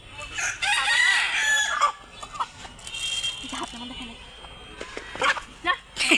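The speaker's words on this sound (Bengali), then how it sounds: "তো আমরা এখন মুরগিকে খাওয়াবো।" Chickens being fed rice, with clucking and a rooster crowing amid people talking nearby and a dog barking once or twice in the background.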